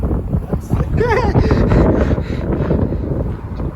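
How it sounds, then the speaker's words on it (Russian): Strong wind buffets the microphone in a steady low rumble, with a voice briefly heard through the gusts outdoors. "Ветрено."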